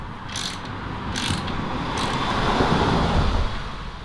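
Ratcheting and metallic clicks from a spanner tightening the long-threaded bolts of a front suspension wishbone during car assembly, a steady run of close mechanical ticking over a low workshop hum for a few seconds.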